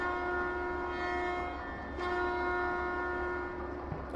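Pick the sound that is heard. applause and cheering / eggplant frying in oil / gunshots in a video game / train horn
train horn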